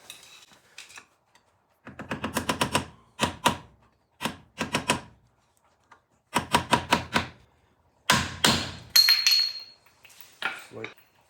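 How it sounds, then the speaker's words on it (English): Prying the center cap off a 1993 Toyota wheel hub: clusters of sharp metallic clicks and scraping taps in quick rhythmic runs, close and separated by short pauses. "first thing we're going to do is pop the center cap off"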